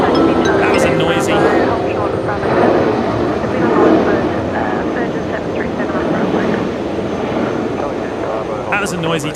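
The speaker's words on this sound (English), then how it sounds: "That was a noisy touchdown." An airliner touches down at Brisbane Airport with a broad, rumbling roar of engine and runway noise rising and falling for several seconds, heard under ongoing talk and radio chatter.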